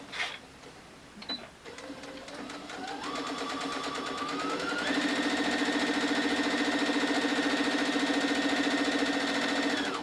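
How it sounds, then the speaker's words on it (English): A sewing machine stitches a fabric grocery bag made from fat quarters shut, its motor climbing in speed into a steady, fast, close mechanical whir with a rapid needle rhythm. A few clicks come just before it starts. "I'll just take it back over to the sewing machine and I'll stitch it again from the other side."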